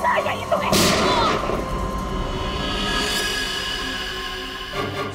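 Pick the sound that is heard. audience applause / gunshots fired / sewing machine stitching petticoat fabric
gunshots fired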